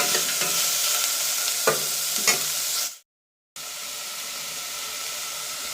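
Capsicum being stirred into sautéed onions in a frying pan, a constant bright sizzle with a few spatula scrapes, briefly cut to silence before the sizzling resumes, close and with no voices.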